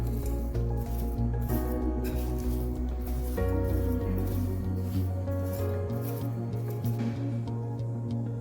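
Mango pickle is stirred together with chili powder, giving soft, wet squishing and scraping sounds that repeat steadily and close up under faint background music.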